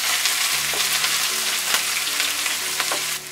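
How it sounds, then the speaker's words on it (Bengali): Onion, garlic and green chili fry in hot oil in a pan, giving a loud, steady sizzle with a few stirring scrapes and no talking. "এটা আমি একটু হালকা বাদামি কালার করে ভাজবো।"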